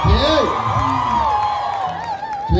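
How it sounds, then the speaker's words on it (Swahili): A crowd at a church gathering in Kenya cheers and whoops, loud and close, with rising shrill cries and a voice talking over the noise. "makofi yake."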